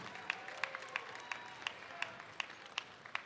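Faint, distant applause at a state FFA leadership conference session, a steady series of separate claps, rhythmic and somewhat sparse, with a hall ambience behind them.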